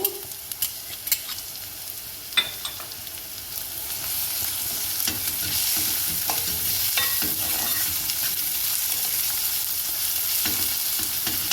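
Chopped garlic goes into hot oil in a pan for aloo pie, where it crackles and then settles into a steady, close sizzle, with a few utensil stirs and scrapes near the start.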